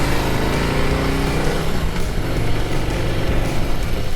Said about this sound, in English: this bike has the stock Harley exhaust. It sounds fine.